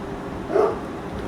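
A single short bark from a pet dog named River, one quick mid-range burst heard alone against a quiet, steady room background.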